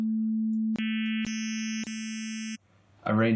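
A steady electronic sine tone hums alone, joined step by step by higher tones that stack into a buzzy chord, then a short pause and a voice.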